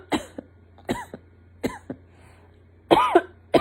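A person with an Omicron illness coughs repeatedly, with several short, harsh coughs spaced about a second apart and then a heavier burst near the end, close and without speech.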